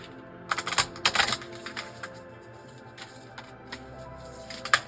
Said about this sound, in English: So next I'm going to shuffle this deck